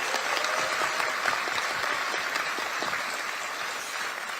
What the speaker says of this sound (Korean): 지도부에 큰 박수 다시 한번 부탁드립니다